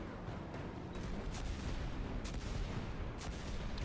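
A Scorch Cannon fires in Destiny 2, with several booming blasts spread through a dense, rumbling wash of battle noise, all fairly faint.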